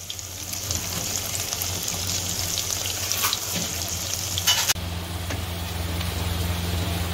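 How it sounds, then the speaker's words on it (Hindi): Spices tempering in hot oil as a tadka for mixed vegetables give a steady close sizzle and crackle, with a brief clatter near the middle and no talk. "ये लग गया है हमारा तड़का"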